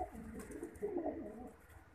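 Pigeons kept as champion birds cooing softly nearby: low, throaty burbling coos rising and falling over a quiet background, with no speech.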